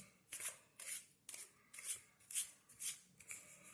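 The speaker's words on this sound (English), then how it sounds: "You're going to turn the cards and do another overhand shuffle like this" Playing cards are shuffled by hand with an overhand shuffle in a steady rhythm of about seven crisp riffling bursts, close and clear with no talking.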